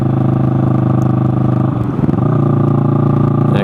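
Motorcycle engine held in sixth gear while riding past a roadside accident, a loud, steady mid-pitched drone with a brief dip and change in tone partway through before settling again.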